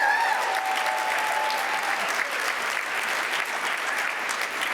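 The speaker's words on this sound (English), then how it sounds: "Can we just have another round of applause?" An audience at a public policy talk gives a steady round of applause, dense and sustained clapping throughout with no speech over it.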